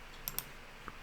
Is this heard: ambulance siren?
no